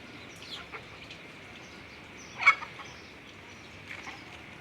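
A free-range native hen with her chicks makes soft, scattered clucks outdoors, with one sharper call standing out midway against a quiet, airy background.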